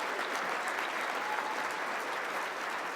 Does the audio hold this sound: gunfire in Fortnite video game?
no